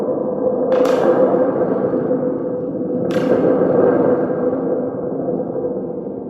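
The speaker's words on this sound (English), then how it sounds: "Sounds like a real thunder." A thunder tube, a spring drum, rattled horizontally gives a loud, continuous booming rumble, with two sharp metallic bursts from the spring setting off long reverberating swells.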